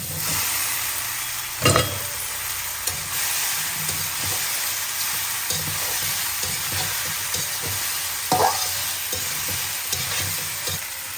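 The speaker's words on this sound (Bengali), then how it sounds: "যে পেঁয়াজ ভাজা হয়ে গিয়েছে, পেঁয়াজ টমেটো, এখন আমি পাস্তা দিয়ে দেবো।" Pasta being stirred into fried onions and tomatoes in a sizzling pan, a continuous close hiss broken by a couple of louder clanking scrapes of the spoon, with no talking.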